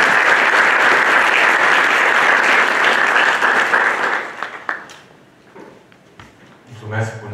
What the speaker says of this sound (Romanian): să vă rog să aplaudăm